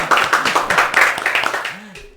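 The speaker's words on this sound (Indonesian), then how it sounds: "Tepuk tangan dulu." A small group claps together for a student of the fisheries faculty, a steady run of hand claps under a voice, loud and close, fading at the end.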